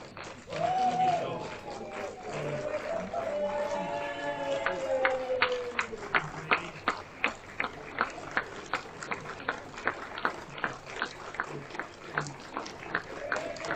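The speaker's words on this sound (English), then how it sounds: "the crowd's going wild out there" Scattered clapping and cheering from spectators at an outdoor Island Games open pairs bowls match, Guernsey against the Western Isles, heard at a distance as a steady patter of claps.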